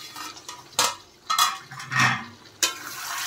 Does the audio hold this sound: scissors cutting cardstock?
no